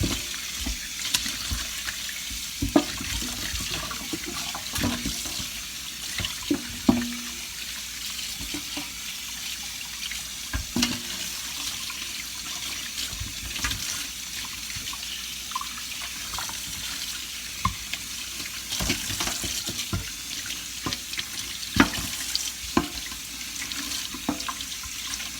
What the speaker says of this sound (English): And now we just about to rinse it off real good.